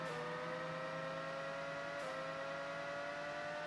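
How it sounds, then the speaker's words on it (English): Race car engine from the Nintendo 64 game F1 Pole Position 64 held at maximum RPM, a steady high-pitched whine with a brief dip about halfway through, then continuing level and moderately loud. "I think that's me maxing out the RPMs"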